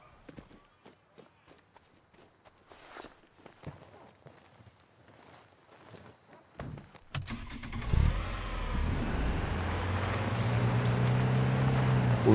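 Inside the Sniper Ghost Warrior 3 video game, soft footsteps approach a car before a door opens and the engine starts, leaving a louder steady rumble running for the final seconds.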